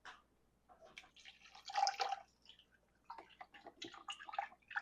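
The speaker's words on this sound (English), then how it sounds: "I'm just going to pour this over around the roast" Reduced-sodium chicken broth poured around a pork roast in an Instant Pot, faint irregular splashing and trickling in uneven bursts, close and quiet with brief pauses and no voices.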